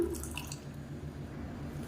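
A small splash of water is poured into a freshly rinsed mixer grinder jar in a home kitchen, a brief, faint trickle and drip that quickly settles into quiet.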